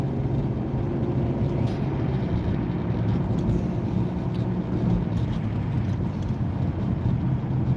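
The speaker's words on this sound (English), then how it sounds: "when this semi-truck goes by me, I'm going to push the gas" Semi-truck passing, then a car accelerating, heard from inside the moving car as a loud, steady low engine and road rumble with no distinct pass-by peak.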